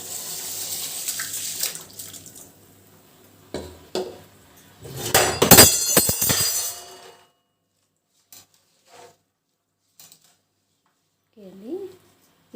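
Soaked rice goes into water for dum biryani: a few splashy pours and clatters of a vessel at first, then quiet with scattered small knocks and a voice speaking briefly.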